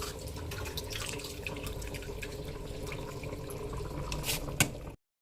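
Water pours into rice in a pressure cooker for mint chicken biryani, a soft continuous trickle and splash with small drips and a short clink just before it stops.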